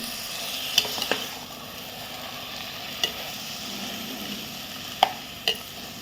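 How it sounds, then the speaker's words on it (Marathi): Washed rice is stirred into masala ingredients in a pot for masale bhat, giving a soft continuous sizzle. A few sharp clicks of the spoon against the pot stand out, close by, and nobody speaks. "आता आपण या सगळ्या साहित्यामध्ये चांगले ढवळून घेऊया"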